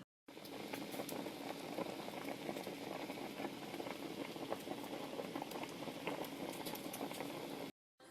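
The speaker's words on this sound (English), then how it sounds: "I'm going to put it on the stove and let it boil for a couple of minutes." Peas in a pot of water boiling steadily on the stove, a continuous bubbling roil with faint rattling, close and even throughout with no voices.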